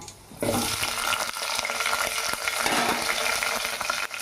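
Onion, tomato and green chilli pieces hit a hot pan with cumin for street-style egg fried rice, giving a loud, steady sizzle with stirring scrapes that starts abruptly and continues throughout, with no talking.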